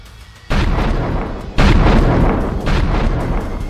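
Country-made bombs go off in a Prayagraj street, two heavy, loud blasts a second apart, each followed by a rolling, crackling roar.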